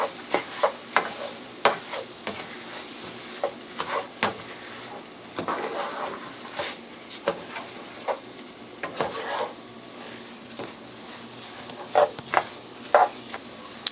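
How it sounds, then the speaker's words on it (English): Rice being stirred as it toasts in a pan for risotto ai funghi, giving soft scraping strokes and light sizzling in an irregular rhythm, close by and moderately quiet, with no speech. "And then we're going to stir until it has changed colors."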